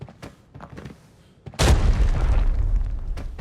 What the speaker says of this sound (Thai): เดี๋ยวขอระเบิดเช็คตรงนี้แล้วกันนะครับ